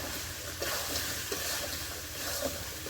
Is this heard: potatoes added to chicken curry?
yes